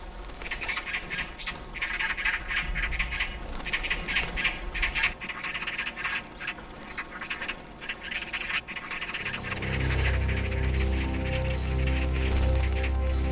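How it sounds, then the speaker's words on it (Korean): Magpies squawk harshly and repeatedly as rival males clash over a nesting territory, the calls fairly close with wing flaps mixed in, giving way near the end to a steadier, droning background. "좋은 자리를 장악하려는 까치들의 싸움은 목숨을 잃을 정도로 치열하다."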